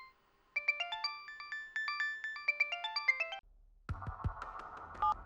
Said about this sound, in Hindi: फॉरेंसिक लैब से कॉल।